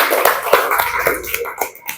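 Young pupils clap for a classmate in a classroom, several loose, uneven claps near and fairly loud, tapering off over two seconds.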